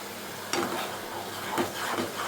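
Spice masala with chili powder being stirred and fried in a pan, a steady close sizzle broken by a few scraping stirs of the utensil, no voices.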